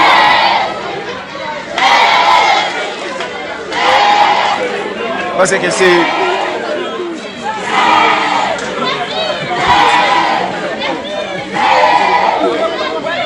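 A large crowd shouts and chants around a pastor in Léogâne as police move in, the roar surging in repeated loud waves, with voices and talk mixed throughout.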